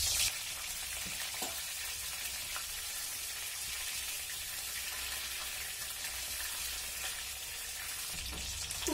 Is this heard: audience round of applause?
no